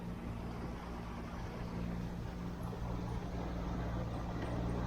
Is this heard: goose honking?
no